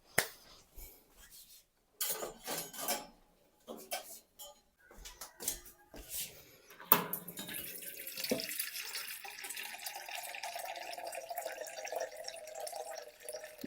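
Water runs from a kitchen tap into a vessel, with clinks and handling taps first and then a steady stream, to make black coffee.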